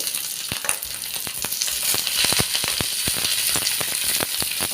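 Stuffed green chillies fry in a pan over low oil, giving a loud, steady sizzle broken by many sharp crackles and pops, close up with no voices.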